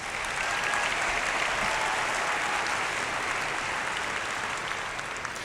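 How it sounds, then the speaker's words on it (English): An audience at a high school graduation ceremony applauds continuously, a dense, even wash of clapping from a large crowd lasting several seconds. "Let's give him a round of applause"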